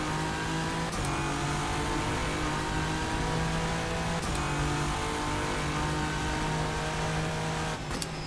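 Race car engine in rFactor 2 at Sebring, a loud sustained drone whose note holds steady with brief shifts and a hard echo off a nearby wall, no voices.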